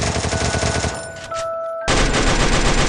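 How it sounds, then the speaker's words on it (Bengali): Rapid automatic gunfire in the battle royale game Free Fire, a loud dense burst that cuts out briefly, then resumes at full intensity, with no talk. "একটা এনিমিকে দেখে ফায়ার করা শুরু করে"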